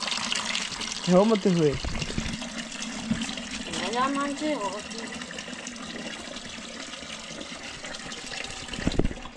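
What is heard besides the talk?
water being poured into a container for cleaning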